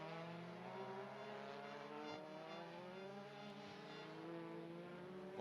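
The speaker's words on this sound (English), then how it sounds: "Volvo working well on the brakes" A Volvo touring car in a 2017 WTCC race in Hungary brakes hard, its engine note dropping through steady downshifts, with a continuous loud mechanical roar and faint tyre noise and no talk.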